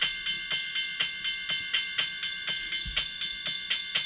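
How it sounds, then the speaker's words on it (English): A looping drum pattern led by a bright, metallic ride cymbal struck on a steady eighth-note pulse, with light kick hits underneath. "Ride cymbal's got that very metallic sound."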